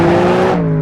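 A modded Cadillac CTS-V in the Assetto Corsa racing game gives a short, loud, sustained engine roar whose pitch sags slightly toward the end, heard alone.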